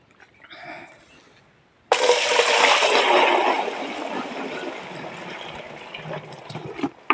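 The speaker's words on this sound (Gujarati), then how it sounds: "આ સાતે સાત વસ્તુ ને આપણે હવે એક પાત્રમાં બધે એડ કરીએ તો પહેલાં આપણે ગૌમૂત્ર લઈએ પંદર લીટર" Fifteen liters of cow urine pour into a vessel in a steady, loud splashing stream that starts abruptly after a brief quieter moment and runs on, gradually easing toward the end.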